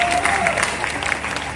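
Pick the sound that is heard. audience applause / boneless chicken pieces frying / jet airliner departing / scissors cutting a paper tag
audience applause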